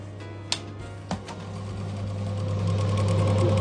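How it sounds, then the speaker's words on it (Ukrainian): Small fans in a homemade egg incubator hum steadily and close, a low even drone that grows slightly louder, with a couple of faint clicks early on. "Тут вентилятори втягують туди, а тут видувають тепле повітря"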